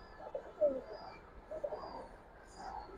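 Pigeons give soft, low coos in short bursts, close by but quiet, against a faint background with a little indistinct sound.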